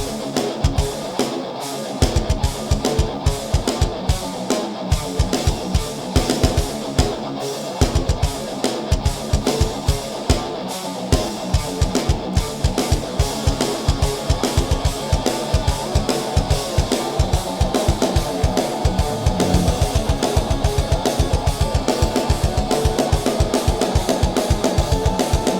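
A programmed drum riff plays loud and steady, with a driving kick, snare and cymbal pattern including triplet figures that repeat for about 25 seconds with no talking.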